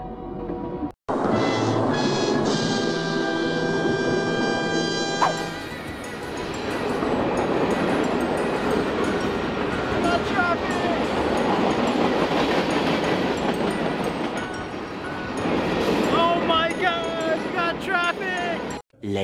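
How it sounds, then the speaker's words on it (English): A train rolls past at a railroad crossing, its horn sounding with strong sustained tones at the start, followed by a long, steady rumble and clatter of railcars, with a brief horn again near the end. "now, of all things, we got a train crossing"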